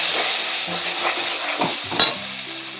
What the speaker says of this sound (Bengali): দিয়ে ভালো করে মশলাটাকে আমি কষিয়ে নেব